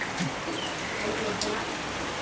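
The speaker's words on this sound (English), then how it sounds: "This rain caught us with our pants down." Heavy rain falls outdoors in a sudden storm, a steady broadband hiss of drops hitting surfaces with scattered nearer splats and no voices.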